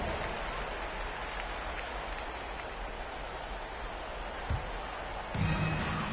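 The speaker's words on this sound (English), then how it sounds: "Give yourself a round of applause." An arena crowd at a basketball game applauds in a broad, wash-like roar, fairly soft and distant and steady throughout, with a brief louder thump near the end.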